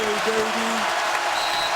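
Basketball arena crowd during a West Virginia versus Kansas college game, cheering and clapping in a steady roar after a three-point shot, heard under a commentator's excited voice.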